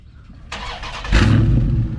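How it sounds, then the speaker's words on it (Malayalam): A 2020 Dodge Charger Scat Pack with the 6.4-litre 485 bhp engine cranks briefly and then fires, catching into a loud, deep rumbling idle that holds steady close to the microphone. "ബ്രോ ഒന്ന് സ്റ്റാർട്ട് ചെയ്ത് കേൾപ്പിച്ചേ."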